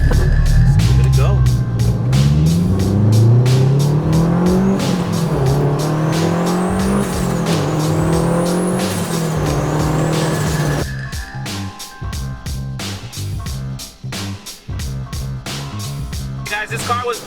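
A 500 hp turbocharged Honda S2000 accelerates hard through the gears, its engine note climbing loudly with shifts, then easing off into a rougher, choppier run. Voices are heard along with the engine.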